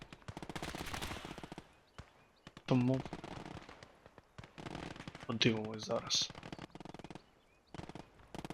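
Video game gunfire crackles in short rapid volleys, with a person speaking quietly in Ukrainian between and over the shots.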